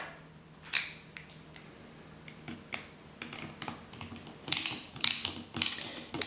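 A screwdriver drives screws into plastic DeLorean model parts, producing quiet, close ratcheting clicks and small mechanical ticks, sparse at first and then in louder bursts toward the end.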